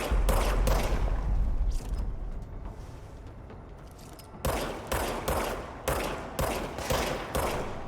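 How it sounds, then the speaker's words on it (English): Rapid bursts of gunfire from a character levitating and shooting in the video game Control, a dense loud volley at first, then a quieter lull followed by a steady run of evenly spaced heavy shots. "I can levitate and shoot, which is kind of cool."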